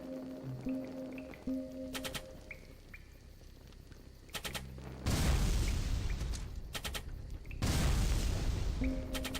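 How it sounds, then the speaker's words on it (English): Two loud, booming flintlock pistol shots in the 2D soulslike game Salt and Sanctuary, each a sharp blast with a lingering roar, after quieter game tones and clicks. "Time to pull out the flintlock pistol."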